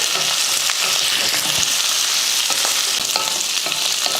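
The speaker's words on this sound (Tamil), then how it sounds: "ஆறு வரமிளகா சேர்த்துக்கிறேன் மூணு பல் பூண்டு ஒரு சின்ன சைஸ் இந்த மாதிரி குட்டி சைஸில் புளி இதெல்லாம் நல்லா வதக்குவோம்" Dried red chillies, garlic cloves and a small piece of tamarind sizzle and crackle steadily in a hot oiled pan. The close, continuous frying hiss carries occasional stirring scrapes and sounds alone.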